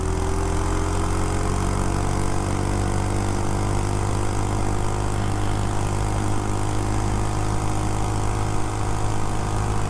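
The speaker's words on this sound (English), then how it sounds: "the wind is bad today" Steady, loud roar of air buffeting past a tiny bike on a cold, windy day at full top speed, a constant broadband rush with an engine-like drone underneath, continuous throughout with no voices.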